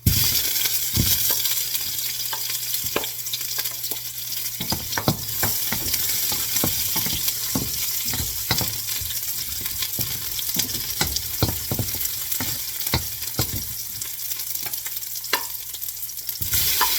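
Onion frying in a pan for sinigang, a dense continuous sizzle punctuated by frequent sharp clicks and scrapes of a utensil stirring against the pan, close and steady with no talking.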